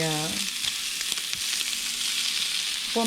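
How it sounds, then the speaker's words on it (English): Shrimp toasting in a greased pan without seasoning, a steady dense sizzle with occasional light taps and stirs, close and even, with brief bits of a voice at the start and end. "So I'm just gonna toast these up a little bit, just enough to change colors"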